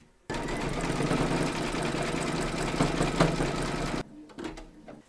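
An embroidery machine stitches a decorative seam on a crazy patch quilt block in the hoop, buzzing steadily and loudly for about four seconds before stopping, followed by a few faint clicks.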